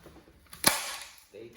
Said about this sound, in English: So we do have a staple gun